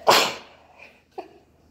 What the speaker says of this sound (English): One second, I have to sneeze.